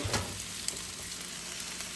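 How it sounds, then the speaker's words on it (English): Steady, bright sizzling of beans frying in a pan, continuous and close, with faint crackles and no voices. "This is starting to sizzle very nicely."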